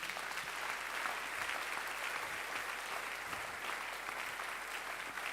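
Congregation at a mass prayer service applauding continuously, a dense, even wash of many hands clapping together for the whole stretch without a break.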